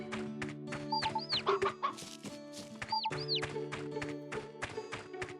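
Chickens cluck and squawk in the video game Zwei, a few sharp rising calls over a steady chiptune-like music bed with light tapping, fairly loud and close, no talking.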